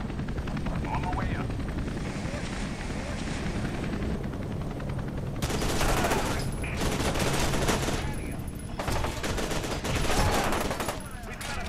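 Gunfire and explosive bursts in the horror shooter video game FEAR 2, coming in loud broadband volleys after a low, rumbling ambient stretch, with a helicopter-like drone throughout and a voice speaking over it.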